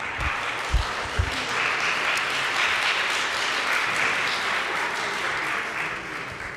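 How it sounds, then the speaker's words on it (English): An audience at a memorial service in a Unitarian church breaks into sustained applause, a dense, even wash of many hands clapping that holds steady for several seconds, with a few thumps near the start. "You can clap for these guys."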